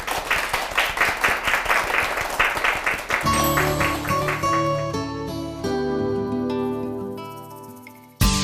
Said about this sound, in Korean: 강연을 큰 박수로 청해보겠습니다